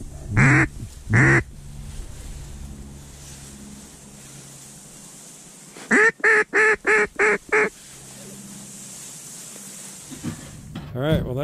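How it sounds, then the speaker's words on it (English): Mallard ducks give two short quacks, then a quick burst of about six rapid quacks close by, with a faint background hiss and a low hum between calls. "Those were more mallards."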